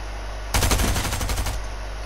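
Rapid burst of automatic gunfire in the video game Fortnite, loud and close, a steady stream of shots lasting about a second before cutting off.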